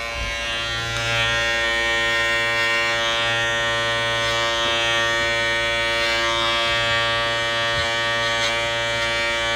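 Electric dog clippers trim a Cocker Spaniel's ear for show grooming, giving a loud, close, continuous motor buzz with a steady pitch and slight changes in load as the blade moves through the fur.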